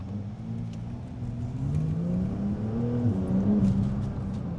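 Turbo S sports car pulling hard under acceleration, its engine note climbing steadily in pitch with a smooth, somewhat muted, whirring tone, heard from inside the cabin.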